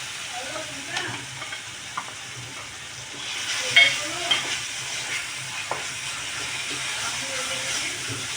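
Ginger-chilli paste sizzling with onions in a pan while soya chunks are cooked, a steady moderate frying hiss broken by a few louder stirring scrapes and crackles.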